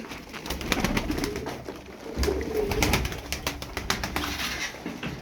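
Pigeons coo softly amid a flutter of wings and scattered clicks and shuffling, with a busy, close-up bird-loft feel.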